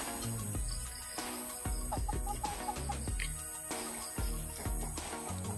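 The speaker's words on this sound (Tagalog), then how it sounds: "Yan yung manok." Chickens cluck repeatedly over a busy background of music and other noise, the clucks fairly close and mixed into a dense, steady bed of sound.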